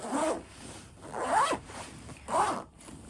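A bag zipper pulled open or shut three times in a row, each a rasping sweep of about half a second, close and fairly quiet, with no voices.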